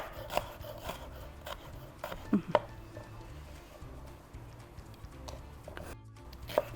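A knife chops a red bell pepper into strips and pieces on a board for a tuna pasta salad, giving scattered, fairly quiet thuds and taps over a soft background.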